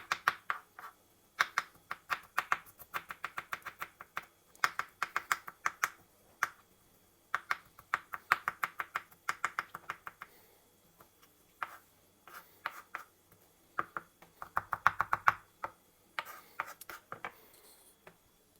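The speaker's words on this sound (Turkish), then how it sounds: "Bir iç sarımsak alıyorum. Güzelce bunu doğruyorum. Küçük küçük olacak şekilde." A knife chops a clove of garlic finely on a board for a Kayseri-style yogurt dish, giving quick bursts of crisp taps in uneven runs with short pauses. The taps are close and fairly quiet, and nobody speaks.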